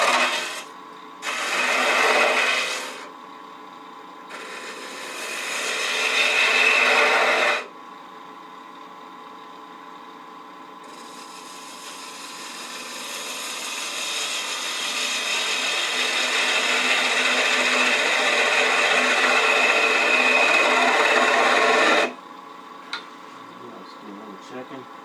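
Spindle gouge on a wood lathe hollowing a geometric turned piece, cutting in several sustained bursts of a few seconds each, the longest running about nine seconds, loud and close with no talking.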